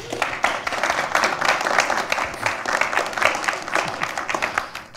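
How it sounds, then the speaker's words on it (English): An audience at a quantum machine learning lecture claps steadily in a full, continuous round of applause, close and fairly loud, with individual hand claps audible throughout. "it's a good idea to clap now"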